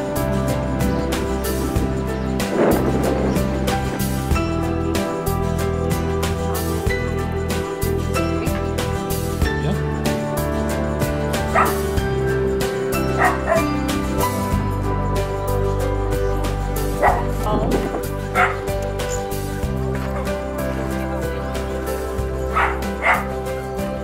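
Several Cavalier King Charles Spaniel dogs bark and yip almost continuously, with whimpers mixed in, loud and close, dense overlapping vocal bursts throughout with scattered sharp yaps.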